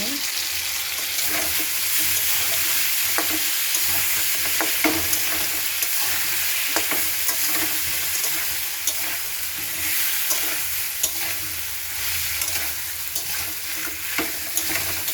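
Ginger and cumin paste fries in hot oil with a steady, loud sizzle, while a spoon scrapes and stirs through it in repeated strokes across the whole stretch.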